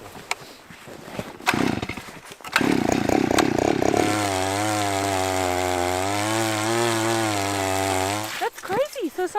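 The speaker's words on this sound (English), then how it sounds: "Get the auger. drill next to it." A loud power auger drills through lake ice, revving up and running steadily for several seconds with a droning engine whine, then cutting off; brief talk and bumps come before it.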